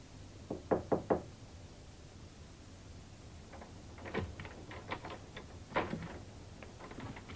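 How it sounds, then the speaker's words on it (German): Knocking on a door comes in short bursts: three quick raps, then softer scattered taps and another cluster of knocks in a quiet room. "Ich habe geklopft."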